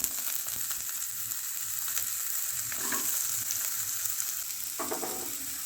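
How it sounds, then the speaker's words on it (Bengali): Potatoes frying in oil with nigella seeds and dried chillies, a steady low sizzle throughout with occasional light stirring and scraping sounds in the pan, close and fairly quiet, no talking. "শুকনো লঙ্কা ভাজা ভাজা হয়ে যাওয়ার পর এর উপরে আমি আলুগুলো দিয়ে দিলাম।"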